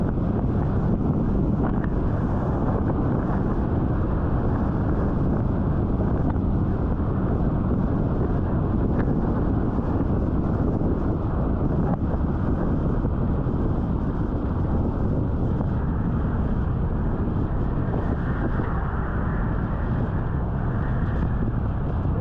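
Steady wind roars across an outdoor microphone on a warm, breezy day, a constant loud rush with no pauses and no voices.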